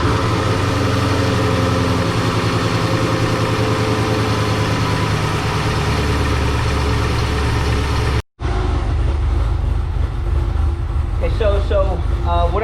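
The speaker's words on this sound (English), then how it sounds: "just idling it here, watching the temperature get up" A 2017 Chevy SS V8 idles with a steady low rumble during a coolant bleeding procedure, then after a brief cut the engine continues more quietly while someone talks over it.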